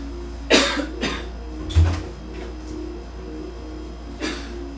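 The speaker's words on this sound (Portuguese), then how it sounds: "Ai, comecei a tossir." Several short coughs in uneven bursts, close to the microphone, with a quiet pause between the later ones.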